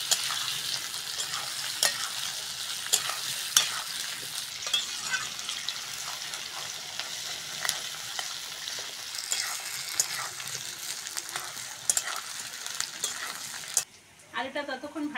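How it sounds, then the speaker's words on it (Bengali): Potatoes cut into long strips fry with onions in a pan, a steady close sizzle broken by frequent scraping stirs throughout, until the sizzle drops away abruptly near the end. "পেঁয়াজের সঙ্গে আলুটা ভালো করে ভেজে নেব।"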